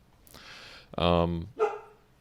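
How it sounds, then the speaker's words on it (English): A dog indoors barks twice, a long full-throated bark followed by a shorter one, close and loud over a quiet room. "That's my dog."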